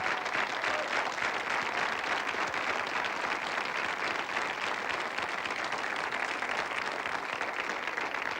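A studio audience at a magic show gives sustained, dense applause, even and continuous, without talk over it.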